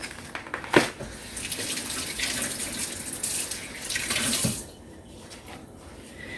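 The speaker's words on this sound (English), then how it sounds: "Hold on, let me rinse my fingers." Water runs steadily from a kitchen tap as fingers are rinsed beneath it, a close, continuous splashing hiss with a brief louder gush near the start before the flow softens toward the end.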